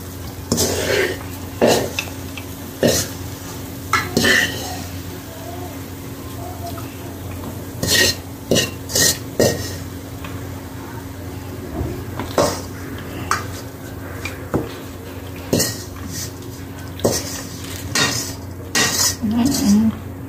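Thick coconut burfi mixture is scraped and poured from a pan onto a plate, with repeated sharp clinks and scrapes of metal utensils against cookware at irregular intervals over a quiet room hum.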